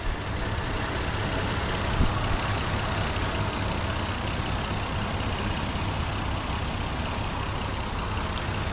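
A 1993 Toyota Land Cruiser VX-Limited with 55,000 miles idles steadily, a low even engine drone with broadband hum, close and constant, nobody speaking.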